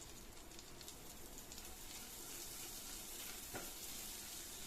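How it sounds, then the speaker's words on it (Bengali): Minced garlic frying in a spoonful of melted butter in a pan, a steady, dense, close sizzle that continues evenly throughout with no talk. "রসুন কুচিটা একটু ভেজে নেব।"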